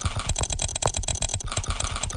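Rapid, steady clicking from a mouse or keyboard during a Cookie Clicker session, dense overlapping taps at close range with no pauses.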